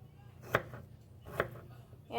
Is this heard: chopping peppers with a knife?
yes